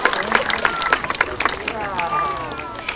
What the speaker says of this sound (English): if we can give her a big cheer for each one she catches